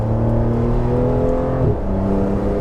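A Porsche 911 Targa 4S engine pulls hard on a winding mountain road, a loud, close droning roar rising in pitch, then a brief dip at a gear change before climbing again.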